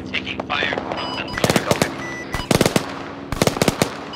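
Bursts of automatic gunfire in Arma 3, loud close rattling volleys in three clusters with single shots between, over a steady engine-like hum.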